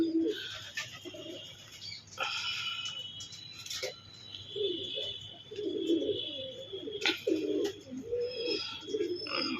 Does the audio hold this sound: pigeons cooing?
yes